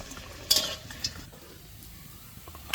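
Prawn pakoras frying crisply in oil, a steady close sizzle broken by a few sharp clinks of a utensil stirring in the pan.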